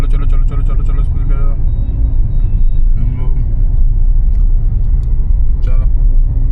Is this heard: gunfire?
no